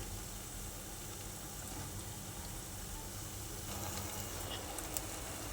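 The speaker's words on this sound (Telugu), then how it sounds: "ఇలా కొద్దిగా ఎర్రగా అయ్యేదాకా వేయించుకుందాం" Long potato fries deep-fry in hot oil, giving off a soft, steady sizzling hiss that stays faint and even without a break.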